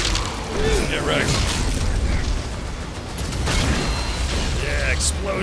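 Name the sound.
explosions in video game DOOM: The Dark Ages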